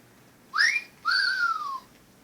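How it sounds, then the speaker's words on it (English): A sound effects machine plays two sliding whistle-like tones, a short rising one and then a longer falling one, clear and close against a quiet background. "Here it is, a sound effects machine."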